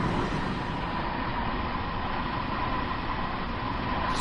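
A Harlem Line commuter train rumbles steadily along the track in Train Sim World 2, a continuous, even drone of motor and wheel noise with no voices.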